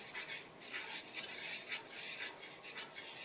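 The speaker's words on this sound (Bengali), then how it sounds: "যাতে লাম্পস না হয়, তার জন্য আমি অনবরত ঘোরাচ্ছি এটা।" A spoon stirs butter and flour for pasta sauce continuously in a pot, giving a faint, steady scraping and swishing with soft repeated strokes, close and quiet, with no talk.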